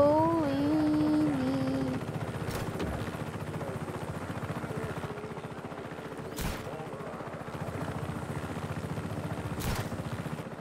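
Helicopter flying in Just Cause 3, a steady rotor and engine drone running throughout with a few sharp bursts, one brief voice at the start.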